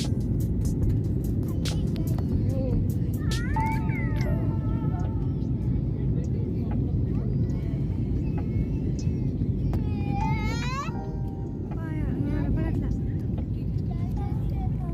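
Steady loud jet cabin roar fills a passenger airplane flying from Lucknow to Hyderabad, a constant low rumble throughout, with a voice talking intermittently over it.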